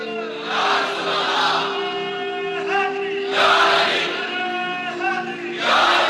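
A large crowd chants slogans in unison at a religious gathering marking the Battle of Badr, with loud voiced bursts rising and falling in repeated waves over a sustained held tone.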